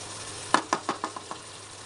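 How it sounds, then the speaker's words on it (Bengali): Meat being stirred and fried with spices in a pan, heard as a quick series of about six light scraping clinks fading in strength, with a faint background hum and no talking. "এখন একটু নেড়ে চেড়ে দিব মশলার সাথে এখন একটু কষানো হোক"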